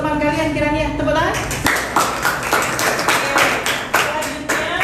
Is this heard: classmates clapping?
yes